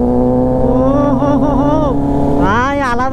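A ZX motorbike's engine revs loudly and close, pitch climbing and falling in several surges, with a sharp rising rev toward the end, the engine noise continuous throughout.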